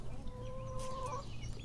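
Short, quiet clucking from a young, recently incubated chicken, with a thin call drawn out over a soft background.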